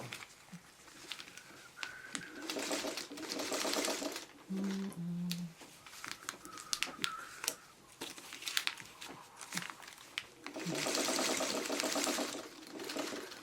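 Sewing machine stitching the bias edges of fabric pieces, running in several whirring bursts separated by pauses with fabric rustling and handling noises, close and alone.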